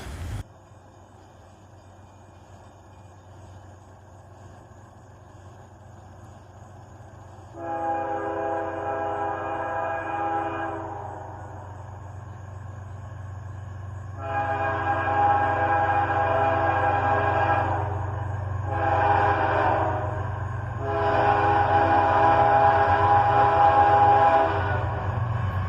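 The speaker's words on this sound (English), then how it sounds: "This was the ethanol train I've been waiting all evening for," An ethanol freight train rumbles past with a steady low rolling drone while its horn blasts several times, first once, then in longer and shorter bursts, growing louder as it nears.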